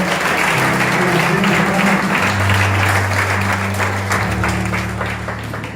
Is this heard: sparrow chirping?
no